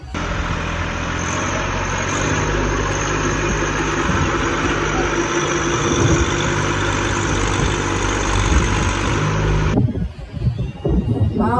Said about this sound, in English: Tractor and truck engine.